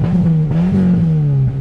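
Peugeot 106 driven on a dirt track with the windows open, its engine a loud, close, steady droning hum that wavers slightly in pitch, with bumps and knocks underneath and no talking.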